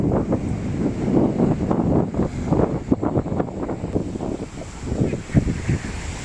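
Sea waves rolling and washing near the shore, a continuous rough surf roar with repeated surges, partly buffeted by wind on the microphone.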